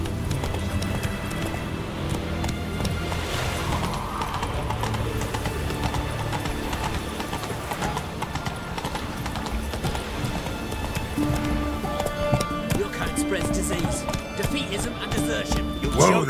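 A horse's hooves clip-clop at a steady galloping rhythm in the Witcher 3 video game, with continuous game music and ambience underneath and a voice speaking over it.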